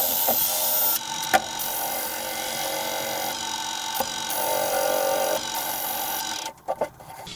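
Sandpaper of 80 grit works the inside of a spinning wooden cookie jar, a steady whirring drone with a rough scratchy hiss, broken by a few sharp ticks and brief pauses.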